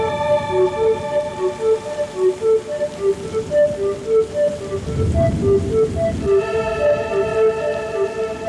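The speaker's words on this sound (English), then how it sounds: "This afternoon rain is typical of the wet" Monsoon afternoon rain pours down steadily in the wet season at Port Keats, a dense continuous hiss with a heavier surge partway through, while a tonal melody with steady notes plays over it.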